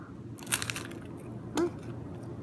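Someone bites into a crunchy Taco Bell Naked Chicken Chalupa at close range, giving two short crackling crunches with quiet chewing between them.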